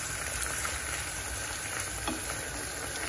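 Minced meat with tomato puree fries in a pan, giving a steady, close crackling sizzle throughout with no talking.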